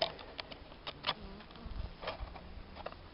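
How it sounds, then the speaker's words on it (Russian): Honey bees buzzing in a hive close by, a busy insect drone with brief louder flurries as individual bees pass near. "Вот сразу загули пчелы в отверстиях."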